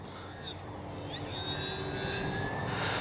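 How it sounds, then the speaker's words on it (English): An Avios Twin Otter RC model plane flies in strong wind, its twin electric motors giving a steady whine that rises in pitch as it climbs, heard alone over continuous wind noise. "I'm kind of holding in the rudder as I went straight up and made that differential thrust, made the plane go straight up."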